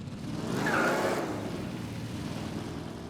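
A race car driven in the Mafia Definitive Edition game, its engine droning steadily and swelling briefly as it accelerates, then settling into a continuous mid-level rumble, with no talking.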